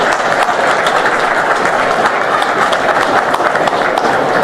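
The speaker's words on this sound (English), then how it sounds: "Please do a round of applause for Nekramji." Audience applause at a felicitation during the 2025 International Trade Fair for organic produce and millets: a dense, steady wash of many hands clapping, fairly loud and continuous throughout, with no talk.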